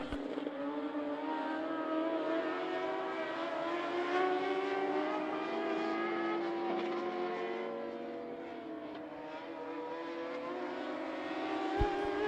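Mod Lite race cars on the final lap at I-75 Raceway, with a continuous, loud, droning engine roar whose pitch rises and falls as the cars circle the track; no one speaks over it.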